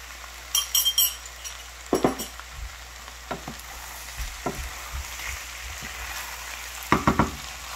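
Rice and shrimp with broth are stirred in a saucepan, giving a soft bubbling simmer under scattered scraping knocks and clinks of the spoon against the pan.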